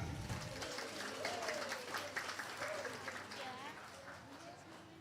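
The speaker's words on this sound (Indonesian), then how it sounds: "Tepuk tangan." Sustained applause from a crowd at a kindergarten-level Indonesian national defense education ceremony, a dense patter of clapping that slowly fades, with voices murmuring and talking underneath.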